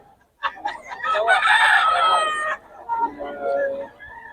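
At a gamefowl farm in Bocaue, a rooster crows loudly and close for about two seconds, and clucking follows just after.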